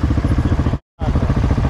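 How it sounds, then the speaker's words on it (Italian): A motorcycle engine on a Milan street, rumbling close with rapid pulsing firing beats, cut by a brief silent gap midway, then resuming just as loud. "quella moto di merda"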